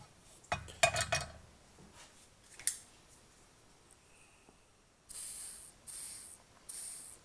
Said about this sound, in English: So I just sprayed that with some good old WD-40